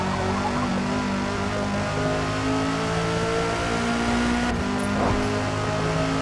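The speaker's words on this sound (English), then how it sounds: "I'm driving this Honda Civic that they give you" A Honda Civic in Forza Motorsport hums along under a steady, fairly loud engine drone, its revs rising and shifting near the end.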